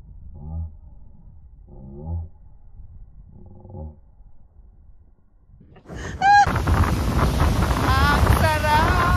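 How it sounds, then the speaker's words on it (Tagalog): Wind gusts roar and buffet the microphone while riding on a boat, loud and close and continuous after a few muffled low thumps and a brief sharp call. "Ang sarap ng simoy ng hangin."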